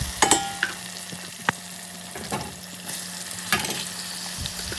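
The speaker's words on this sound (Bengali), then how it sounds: "চিংড়ি মাছটা পেঁয়াজটার সাথে দিয়ে দিলাম, আরও একটু ভাজা ভাজা হয়ে যাবে।" Prawns frying in a pan with softened onion and tomato for a prawn biryani, a steady close sizzle broken by intermittent scraping and stirring clatters, with no talking.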